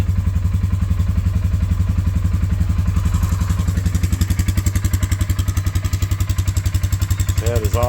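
A 2018 Polaris 450 Sportsman ATV engine idles steadily after a battery replacement, a loud, close, rapid single-cylinder thumping that stays even throughout, with a brief faint voice near the end.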